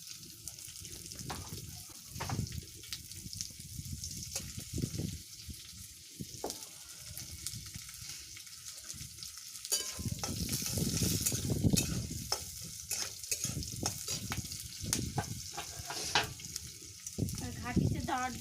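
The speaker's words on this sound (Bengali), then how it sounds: "তেজপাতাটা দিয়ে দেব, একটু জিরা দিয়ে দেব।" Bay leaf and cumin seeds hitting hot oil in a home kitchen, a steady close sizzle with bursts of stirring and spatula scraping, while a voice speaks intermittently over the frying.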